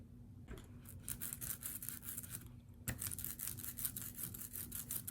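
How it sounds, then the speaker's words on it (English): A soft, steady rolling rasp with sticky crackling and snapping, a brayer spreading tacky printing ink back and forth; quiet and close, with no talking. "we're going to spread it around in both directions until we hear a snapping noise"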